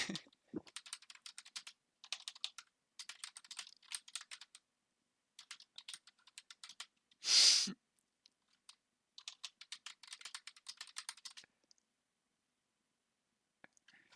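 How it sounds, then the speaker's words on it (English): Rapid bursts of clacking on a computer keyboard, close and clear, broken by short pauses and one louder rustling thump midway, with no talking. "I'm just gonna be typing with the keyboard and not looking at the screen"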